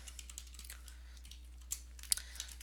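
Light, quiet clicks of a computer keyboard as CSS code is typed, scattered keystrokes coming at an irregular pace with a few sharper taps, close and soft over a low hum.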